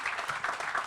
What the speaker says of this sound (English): let's give him a round of applause for his great work, as well as his team